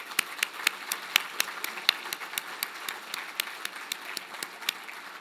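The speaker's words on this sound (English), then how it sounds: "let's give a round of applause to the League of Women Voters" Scattered, fairly faint clapping from an audience at the Marion State of the City 2023 event, honoring the League of Women Voters, with sharp separate claps in a loose rhythm.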